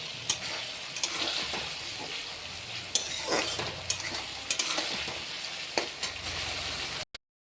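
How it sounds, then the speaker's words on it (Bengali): Mixed vegetables sizzle in a pan while being stirred, a close, continuous frying hiss with sharp clinks and scrapes of the spatula, ending abruptly; no voices. "এগুলো সবগুলো একসাথে করে ভালো করে ভেজে নিতে হবে।"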